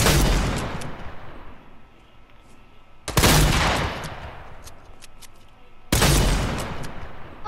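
Three heavy bursts of gunfire in a Fortnite match, each a sharp loud onset about three seconds apart that rings out and decays into a rumbling tail, with lighter crackling shots scattered between them.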